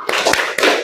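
A couple of crisp, close hand claps from the 'tepuk biola' clap chant in a classroom, loud and alone with no voices over them.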